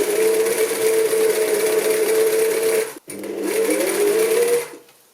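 A sewing machine stitches gathers in fabric, a loud steady whir running for about three seconds, a brief pause, then another run that winds down to silence.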